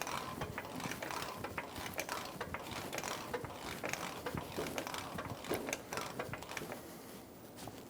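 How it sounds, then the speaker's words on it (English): A mechanical jack ratcheting with rapid repetitive clicks as it lifts a 2014–2018 Chevrolet Silverado's steering knuckle to load the suspension, steady and close throughout, no voices. "We're going to jack this up until our suspension is acting like it is fully loaded"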